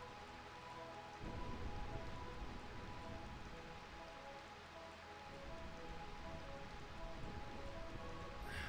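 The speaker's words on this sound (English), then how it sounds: "Jesus, it is raining" Steady rain pours in the video game Final Fantasy 9, a dense even hiss that thickens after the first second and keeps going without a break, with no voices over it.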